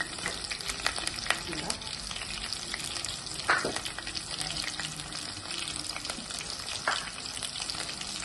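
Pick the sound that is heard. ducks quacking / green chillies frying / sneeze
green chillies frying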